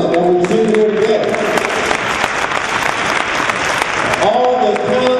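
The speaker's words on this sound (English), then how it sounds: "can we have a round of applause for all the talent that we've seen here today?" An audience at a speech event applauds the youth singers and dancers, a dense, sustained burst of clapping from a large crowd. A voice is briefly audible amid the clapping.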